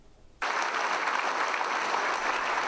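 Applause bursts out abruptly and fills the hall as the new prosecutor general enters his inauguration ceremony, a sustained, dense clapping from a large audience after a brief quiet start.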